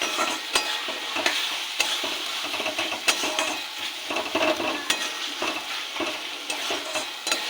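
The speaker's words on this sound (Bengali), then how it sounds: "এটাকে একসাথে কষে নেব।" Spices, chopped tomato, salt, turmeric, chili and roasted cumin powder being stir-fried together in a pan for a spicy fish curry, with a loud continuous sizzle broken by repeated scraping strokes of a spatula, close up.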